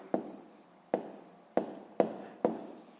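A pen scratches figures onto paper while someone works a sixth-grade maths exercise, five short sharp strokes at irregular intervals, close and distinct, each with a brief scratchy tail, no voice over them.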